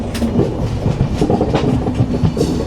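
Pavan Express pulling into Varanasi City railway station, its wheels beating a loud, rhythmic clickety-clack over the rail joints along with a steady rumble of the carriages.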